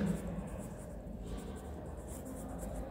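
Faint, continuous scratching of writing on a board in a maths classroom, a soft steady scraping with no clear pauses and no talk over it.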